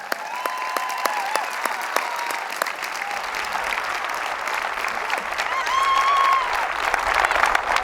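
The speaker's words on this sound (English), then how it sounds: "So let's give them all a round of applause as well." Applause at a university commencement for alumni and governing boards: sustained, dense clapping from a large crowd that swells slightly toward the end, with a few scattered whistles.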